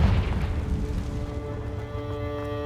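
A Confringo blasting spell in Hogwarts Legacy goes off with a low, rumbling boom that fades into a sustained hum and ringing tones, steady and fairly loud, with no talking.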